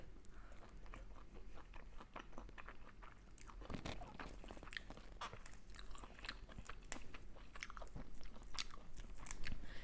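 Close, steady crunching and chewing of stir-fried eel with holy basil, dense biting sounds repeating without pause and no talk over them.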